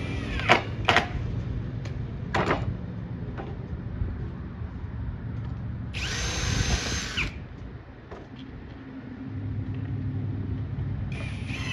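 A power drill drives 1 5/8 inch wood screws into an arcade cabinet build, giving short bursts of whirring close by with clunks and background rumble between.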